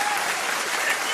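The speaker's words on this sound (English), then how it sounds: "You deserve a round of applause." Studio audience or hosts clapping on a morning talk show, a dense continuous patter of applause filling the whole short moment at steady loudness.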